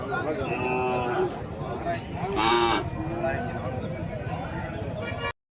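A calf moos loudly at a livestock market near Madrapalli, Tamil Nadu, the drawn-out calls rising over a busy crowd, with people talking throughout and a brief silence at the end.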